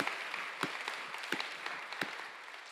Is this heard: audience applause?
yes